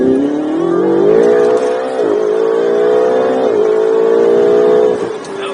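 A car accelerating hard at speed with a smooth automatic gearbox, engine pitch rising steadily then dropping at each shift and dipping again as it downshifts on its own, loud and continuous from inside the cabin with brief talk.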